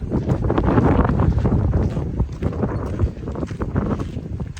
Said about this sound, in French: il y a un énorme vent